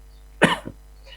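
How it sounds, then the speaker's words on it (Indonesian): One short cough, a sharp burst followed by a small second catch, close to the microphone in a quiet room during a religious study gathering. "Batuk dulu."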